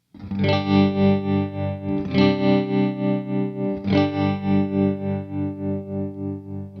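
An electric guitar strums three sustained chords through a Walrus Audio Monumental tremolo pedal in standard mode, each ringing out with a steady, regular pulsing throb, played alone and up close.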